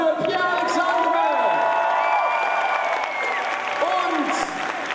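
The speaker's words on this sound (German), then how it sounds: "Aber großer Applaus für Pierre-Alexandre!" Audience at a BlizzCon qualifying event applauding and cheering for a contestant, a full burst of clapping with whoops and shouts, while a voice speaks over it.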